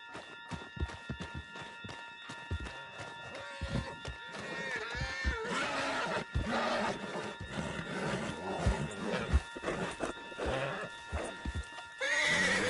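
A horse in a video game whinnies loudly and clip-clops along with hoofbeats on a wooden surface, mixed with game sounds and brief character voices.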